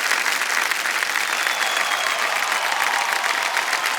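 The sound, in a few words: studio audience applause on a quiz show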